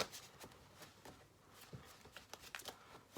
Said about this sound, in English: so if I just shuffle the deck here